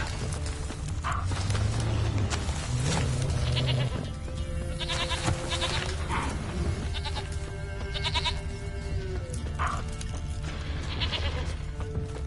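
Goats bleat in The Witcher 3, several distinct calls spaced a few seconds apart over a steady background of ambient game noise.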